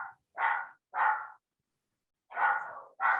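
Dogs bark in short, separate bursts, four or five loud yaps close by with brief pauses between them and nothing else heard.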